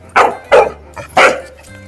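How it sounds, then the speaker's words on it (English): A dog barks three times in quick succession, loud and close, each bark short and sharp with brief pauses between. "Let's learn animal sound. Dog. What dog is doing?"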